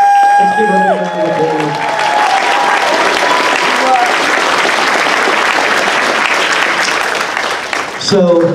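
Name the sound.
audience applause and cheering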